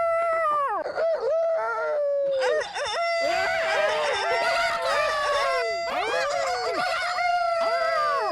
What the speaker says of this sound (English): residents concerned about roosters crowing throughout the night